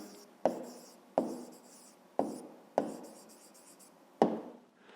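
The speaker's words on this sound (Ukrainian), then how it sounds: "коли ми знаємо відповідь, записуємо відповідь, пишемо відповідь" A pen writes an answer on paper for a fifth-grade math exercise, producing several close, crisp taps and short scratchy strokes spaced about a second apart in a quiet room.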